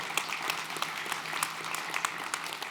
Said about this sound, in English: And so, yeah, you can clap for that, for sure.